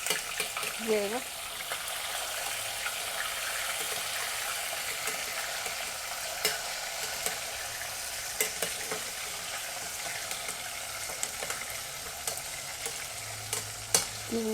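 Marinated chicken fries in oil in a home kitchen, a steady crackling sizzle running throughout with brief clatters of stirring, and a few faint voices murmuring underneath.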